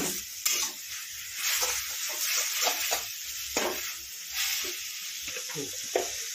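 Gongura chutney cooking in oil in a pan while being stirred, an even hiss and sizzle with soft intermittent scraping strokes, close and moderately quiet.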